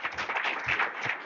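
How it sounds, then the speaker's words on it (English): Audience clapping for a lecturer at the EEML 2025 machine learning school, a short steady patter of hands filling a room, moderately loud and continuous for just over a second. "let's give a clap to our time."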